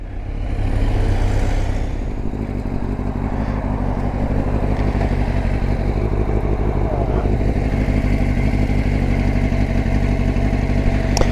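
A Kawasaki Z1000 motorcycle engine runs steadily nearby, a loud, continuous mechanical rumble with a faint clatter. It rises at the start, then holds an even idle-like drone, with no speech over it.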